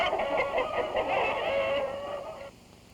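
Hens on a large egg farm flock of about 8,000 birds, clucking in a dense, continuous chorus that fills the space, fairly loud and close, with no talk over it before fading slightly at the end.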